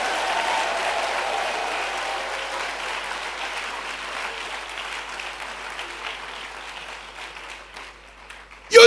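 A church congregation claps their hands during a sermon, producing sustained, dense applause that slowly fades over about nine seconds before a sharp loud burst at the very end.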